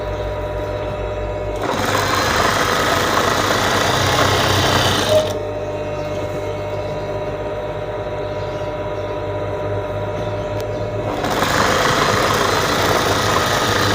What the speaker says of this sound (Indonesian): Agar hasil jahitannya bagus, kita jahit pelan-pelan.